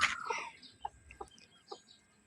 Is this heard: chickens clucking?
yes